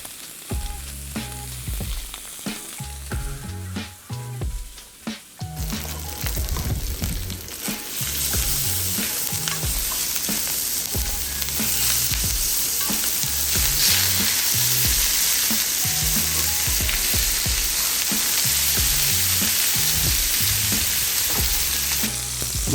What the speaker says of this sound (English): I'm gonna sear these about 2 to 3 minutes per side.